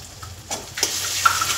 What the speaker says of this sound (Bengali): আদা রসুনটা খুব ভালো করে কষাবো